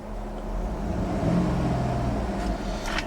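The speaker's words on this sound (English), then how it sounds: "I'm going to rev the engine." Engine of a 2011 Cadillac Escalade revving while parked, a steady low rumble that swells slightly then holds, close and continuous with no talking.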